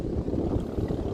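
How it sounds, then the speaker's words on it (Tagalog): Strong northeast monsoon wind buffeting the microphone in a steady low roar, with gusty rumbling and no other clear sounds. "lakas ang hangin ngayon ah, hangin amihan"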